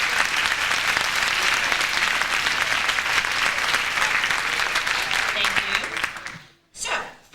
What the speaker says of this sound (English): So you can join me in just congratulating them all with one quick round of applause.